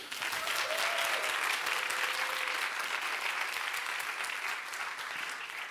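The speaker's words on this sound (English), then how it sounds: "let's give a big round of applause also for the judges" Audience applauding the judges at a science contest, a dense sustained round of clapping filling the room at steady strength before easing slightly at the end.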